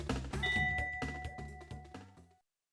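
A bright chime sounds from a redstone minigame in Minecraft as its timers refill, a ringing tone over a flurry of clicky game sounds that fades out after about two seconds.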